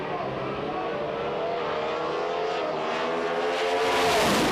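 Drag racing Ford and Chevrolet launching off the line at an IHRA event, engines revving hard with pitch climbing steadily, loud and close, building to a roaring peak at the end.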